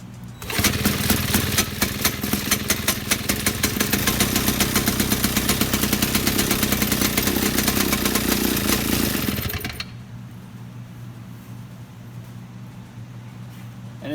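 Vintage chainsaw engine cranked by a drill: a loud, dense buzzing whir that runs for about ten seconds, then drops abruptly to a quieter low hum with no voices.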